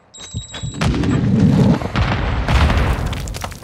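A Semtex grenade blows up in Call of Duty Modern Warfare 2 amid a loud, booming battle, with a second heavy blast-like surge partway through and continuous combat noise around it.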